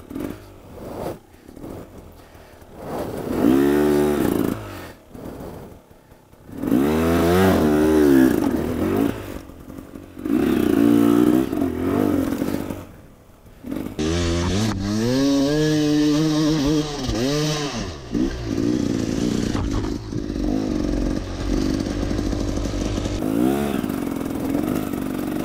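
An enduro motorcycle rides off, its engine revving and rising in bursts, then settling into sustained rough throttle that fades somewhat toward the end.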